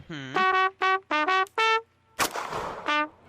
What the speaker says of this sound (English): He's firing gunshots off as he's playing the trumpet.